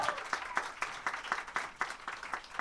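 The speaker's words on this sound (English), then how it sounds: "can we give an amazing round of applause to our host right here" Rhythmic clapping at a live hip hop hangout in a library, a modest audience applauding the host with evenly spaced, fairly distinct claps throughout.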